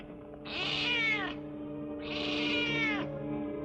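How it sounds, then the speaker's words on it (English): A cat meows twice in a quiet indoor scene from an old western drama, each call drawn out for about a second with a pause between, clear and close over a low steady background hum. "That cat gives me the willies."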